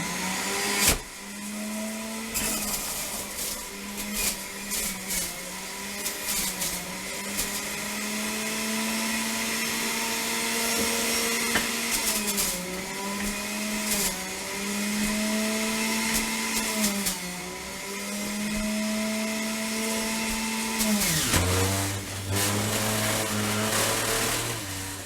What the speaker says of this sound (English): I'll just throw some carrots in the juicer and go